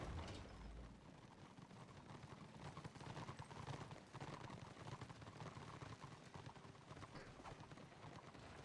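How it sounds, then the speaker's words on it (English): Hooves clip-clop in a steady rhythm as a mounted character rides a horse in the Warhammer Online game, a soft continuous patter set low in the mix. "we're on a horse still"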